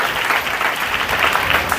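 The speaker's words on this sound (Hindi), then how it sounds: "ताली बजा के प्रभु के नाम को महिमा करें।" A church congregation claps in praise during a Hindi Christian service, a dense, steady wash of applause from many hands filling the room, loud and continuous without a break.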